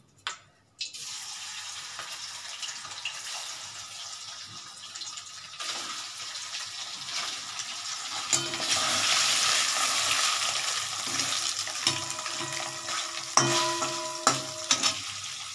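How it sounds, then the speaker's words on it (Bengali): Paneer fries in white oil in a pan with a steady, bubbling sizzle. It starts after a brief clatter, builds and grows busier midway, and ends with a few sharp knocks of utensils. "পনিরটা এবার ভেজে নিচ্ছি আমি, সাদা তেল দিয়ে করছি এটা।"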